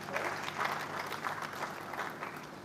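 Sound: audience applause

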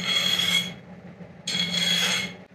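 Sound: filing a chamfer on a metal block plane's edges

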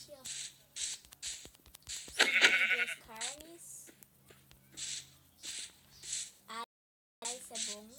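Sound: sheep bleating in a video game

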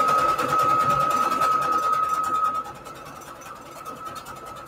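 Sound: sewing machine stitching fabric onto index cards

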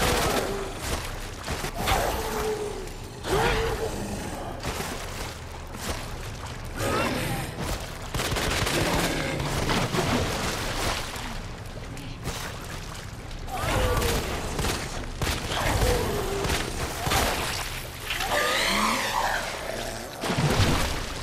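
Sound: gunfire at G monster in Resident Evil 2 Remake video game

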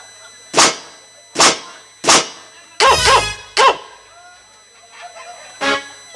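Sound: dog barking

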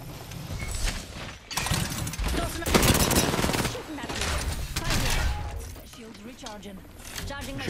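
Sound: gunfire shooting through windows in the video game Apex Legends

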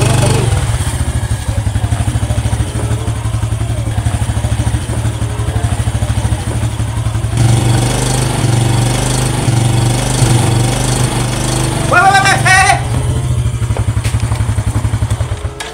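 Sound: motorcycle engine running

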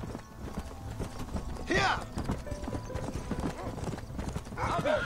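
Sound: horse hooves clip-clop, from video game Red Dead Redemption

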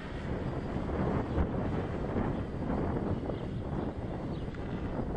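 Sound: wind blowing outdoors while flying gimbal drone

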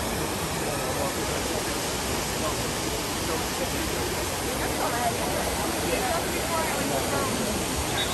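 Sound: water of the Trevi Fountain in Rome

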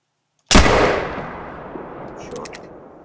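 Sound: black powder muzzle loader rifle shot, from video game COTW

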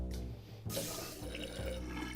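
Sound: toilet flushing water in World of Goo video game

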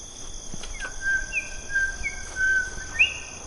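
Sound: night bird calling overhead

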